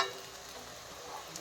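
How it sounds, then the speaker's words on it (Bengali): Pakoras fry quietly in hot oil as they are turned over, a soft, faint, continuous sizzle with no talking. "উল্টিয়ে পাল্টিয়ে ভেজে নিই পাকোড়াগুলো"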